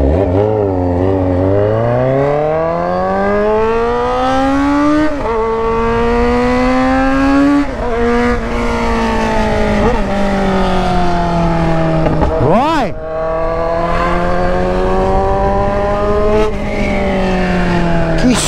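Kawasaki Z900RS motorcycle with a full aftermarket exhaust revving hard and loud, its engine note climbing and dropping through repeated throttle blips over about eighteen seconds.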